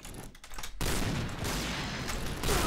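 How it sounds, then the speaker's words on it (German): Gunfire in the Piercing Blow video game, a dense rapid burst of shots that starts abruptly and keeps going loud and close, with a few quieter mechanical clicks before it begins. "Das sind meine Schüsse hier."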